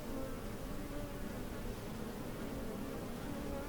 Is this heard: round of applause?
no